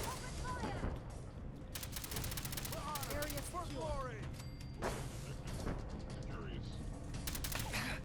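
Repeated gunfire and heavy bombardment blasts in the Fallout 4 video game: dense, continuous bursts of shots and impacts across the whole stretch, with voices speaking and calling over the battle.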